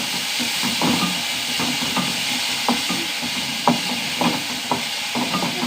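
Crushed shallots and garlic fry in a pan with a steady close sizzle and hiss, broken by regular light scrapes and taps of stirring, with no voice over it.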